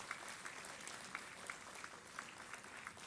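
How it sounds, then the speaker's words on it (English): Audience applause at the Aerothon 2024 education event, a steady, even patter of many hands clapping, moderately distant and fairly soft, continuing throughout without a break. "And I request all the people to clap"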